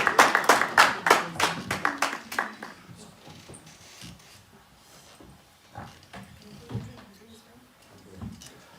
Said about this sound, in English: If we can clap hands for him